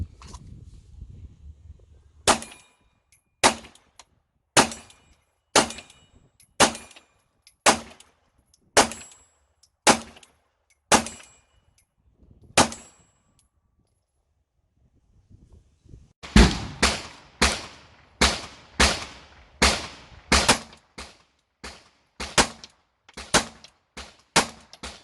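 A micro 9mm pistol fired at a shooting drill: about ten sharp, loud shots evenly spaced, a pause of a few seconds, then a faster string of a dozen or so cracks, with no talking.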